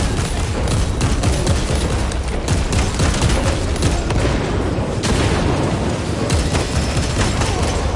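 Heavy gunfire in Warhammer 40,000: Space Marine 2 on PS5, a loud, dense barrage of rapid shots and booming impacts that continues without pause throughout.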